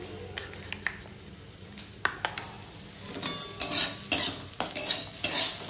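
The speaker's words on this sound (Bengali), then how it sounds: "আলু পেঁয়াজ ভাজা হয়ে গেছে, এর মধ্যে ভাতটাকে দিয়ে দেবো" Leftover rice being stir-fried with fried potato and onion in a pan: irregular metal spatula scrapes and clinks against the pan over a soft sizzle, growing busier and louder toward the end.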